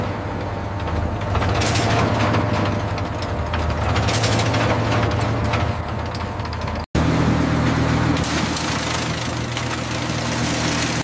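A twin-shaft shredder at a tire recycling factory grabs a tire, collapsing its sidewalls and tearing it apart, a loud continuous grinding machine roar with crunching bursts and a brief cut midway.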